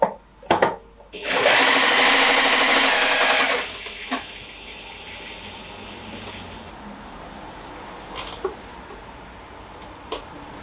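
A sewing machine stitches a tote bag in one fast, loud, steady burst of about two seconds, preceded by a few clicks and followed by quiet handling noises and small taps.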